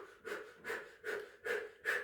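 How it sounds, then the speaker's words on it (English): Breath is drawn in and pushed out through a rounded, O-shaped mouth, as if through a straw, during a winter yoga flow. Five close, airy, rhythmic pulses come evenly spaced with no talking. "you're going to bring your tongue in and have an O-shaped mouth, like you're breathing in and out through a straw"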